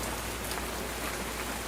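Steady rain pours at night, a dense even hiss of drops hitting surfaces throughout, soft and continuous with no talk.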